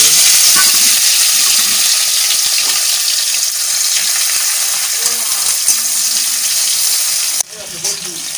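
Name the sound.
chopped onion, dried chili, bay leaf frying in hot oil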